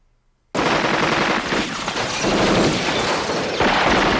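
Loud, sustained automatic gunfire from the 1987 film RoboCop bursts in abruptly after a brief silence, a dense continuous barrage of rapid shots with booming impacts that holds at full intensity to the end.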